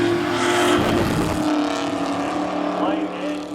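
Mid-80s Camaro race cars roar loudly side by side at Seekonk Speedway drag racing, engines droning and revving continuously at close range with a commentator talking over them.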